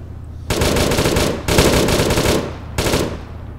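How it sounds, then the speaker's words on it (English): Sustained machine-gun fire in a tank combat video game: three long, loud, rapid bursts of automatic shots, each cutting off abruptly, separated by short gaps. "we're being shot from the southwest"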